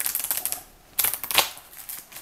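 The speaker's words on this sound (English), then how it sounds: "I'm going to actually try to attempt a side shuffle." Sleeved playing cards being side shuffled give two bursts of quick, crisp plastic clattering, close and moderately loud.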